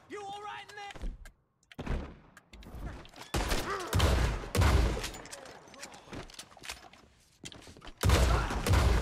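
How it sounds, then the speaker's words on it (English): Gunshots ring out in the video game Red Dead Redemption 2, several loud cracks and bursts scattered among in-game shouting voices and commotion. "Shots fired."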